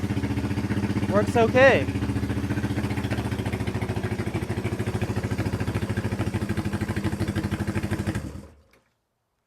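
Vintage Honda motorcycle engine kicked over and running steadily at a close, loud idle, its even putter continuing for about eight seconds before cutting off; a voice speaks briefly early on.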